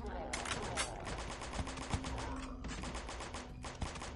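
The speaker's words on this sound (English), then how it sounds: "Alright, shooters are doing some work" Rapid gunfire from shooters in the zombie flash game Dead Zed, dense repeated bursts of shots running almost continuously at close range.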